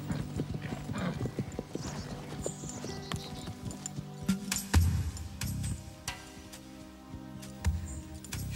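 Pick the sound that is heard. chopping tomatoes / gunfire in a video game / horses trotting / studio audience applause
horses trotting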